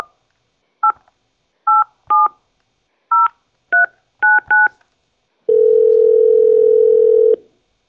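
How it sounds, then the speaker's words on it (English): Telephone keypad tones dialing into a conference call, a series of short paired beeps in an uneven rhythm followed by a steady two-second tone, clear and close with no talking. "Kathy, if we lose you, we'll dial in while we're waiting for questions."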